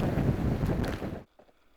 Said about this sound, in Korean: 바람 소리가 심상치 않습니다.